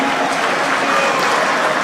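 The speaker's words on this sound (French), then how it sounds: "est-ce qu'on peut bien applaudir pour le Grand Kivu?" Loud, dense applause from the audience at an extraordinary party congress in Kinshasa, close and continuous with crowd voices blended in.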